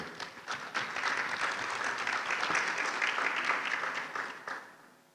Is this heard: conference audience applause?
yes